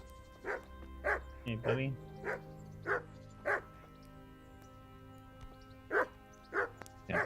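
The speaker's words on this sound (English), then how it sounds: "Hey dog, you friendly or?" A dog in the medieval game Kingdom Come: Deliverance gives a string of about a dozen short, evenly spaced barks with a brief whimper, moderately loud over a quiet game background, while someone speaks briefly.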